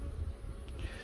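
Honeybees buzz in a steady, close hum around an open hive in a mountain apiary, continuous and fairly loud over a brief stretch with no voices.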